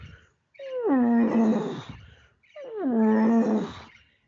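A human voice imitates a lion contact call with two loud, drawn-out, moaning roar-like calls that swell and fade, each close to the listener and separated by a short pause.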